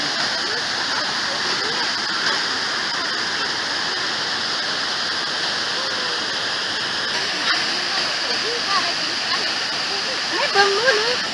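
Kuang Si waterfall near Luang Prabang, a broad, steady roar of falling water filling the space with constant hiss and rush, with faint voices now and then beneath the flow.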